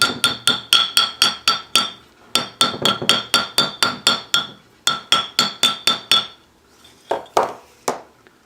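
A metal hammer strikes a sterling silver bangle on a steel mandrel in quick, evenly spaced rounds of ringing metallic taps, close and loud, with short pauses between runs and a few slower, duller blows at the end.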